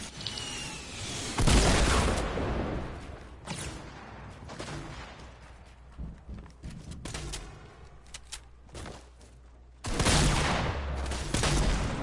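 Gunfire in a Fortnite duo match, loud bursts of shots at about 1.5 and 10 seconds with scattered single shots and impacts in between, no voices.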